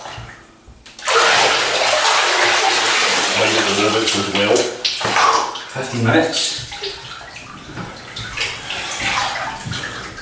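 Warm water gushing loudly from a tap into a bathtub, a steady close rush that begins after a quiet moment, with a person talking briefly over it.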